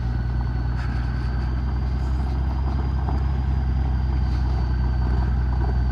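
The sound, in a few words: side-by-side ATV engine driving past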